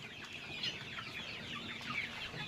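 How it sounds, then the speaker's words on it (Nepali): Fifty-day-old local chickens cluck steadily in a close, busy flock, with overlapping calls throughout and no talking. "50 दिनको कुखुराहरू"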